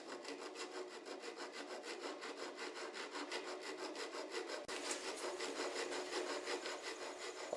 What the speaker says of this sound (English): now I'm using my rasp to put a bevel on the stem form